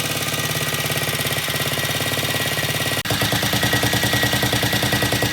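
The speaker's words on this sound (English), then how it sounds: "yesterday this bike would not idle. Today it sounds really, really good." A vintage British motorcycle engine idles steadily close by, giving an even, rapid thumping beat with a brief blip partway through and no talk over it.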